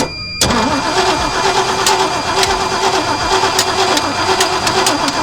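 A GMC K20 truck engine cranks briefly, catches and settles into a loud, rough idle that runs steadily right up close with no talking over it.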